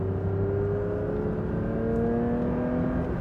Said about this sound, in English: That sound. It's that second gear, like wide open.